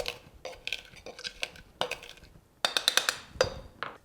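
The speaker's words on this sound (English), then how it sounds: "add jalapeno slices and pineapple chunks to your cocktail shaker and muddle" Jalapeño slices and pineapple chunks are pounded with a muddler inside a metal cocktail shaker, a rapid series of close, sharp clinks and thuds in an irregular rhythm.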